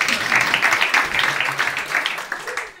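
Comedy club audience applauding steadily, a dense crowd of clapping hands at a fairly even level with some voices mixed in, fading slightly toward the end.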